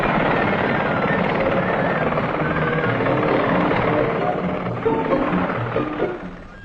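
A Westland Whirlwind helicopter roars steadily and loudly with a dense, unbroken rotor and engine drone, close by, fading slightly toward the end.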